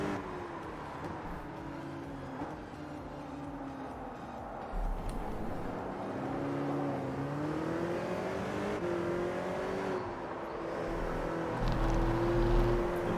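Racing cars lapping the Nürburgring GP circuit in a racing video game, engines droning and shifting pitch steadily as they rev and accelerate, fairly loud and continuous with no talk.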